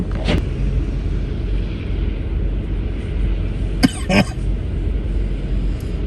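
Two or three sharp coughs from a person riding through snowy streets on a commute to work: one early, then a quick pair a few seconds later, over a steady low vehicle rumble.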